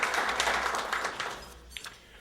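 Audience applause from a library luncheon crowd, a steady patter of clapping hands that fades gradually toward the end.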